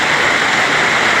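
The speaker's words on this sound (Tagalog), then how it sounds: "dahil napakalakas yung ulan" Heavy rain pours down in a dense, loud, unbroken hiss, close and steady across the whole short stretch with no other sounds over it.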